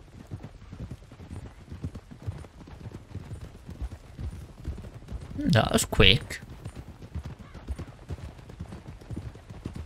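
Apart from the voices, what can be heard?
horse hooves clip-clopping, video game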